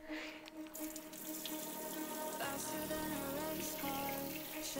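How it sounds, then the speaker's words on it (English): Tap water runs steadily into a kitchen sink as lemons are rinsed under it, a close continuous splashing stream. "And then, my lemons. Let me give them a good rinse."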